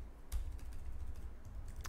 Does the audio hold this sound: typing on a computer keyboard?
yes